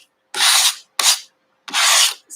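Fabric scraps scraped off a quilting cutting mat, three rough rasping strokes close up with short silent gaps between, then the start of a fourth.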